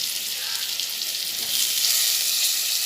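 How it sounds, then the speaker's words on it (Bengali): Steamed papaya being stirred and fried in a pan with ground cumin: a steady, loud broadband sizzle that swells slightly toward the end, with no voices. "আমি দিয়ে দেব আমার ভাপ দেওয়া পেঁপেটা দিয়ে একটু নেড়ে চেড়ে কষতে"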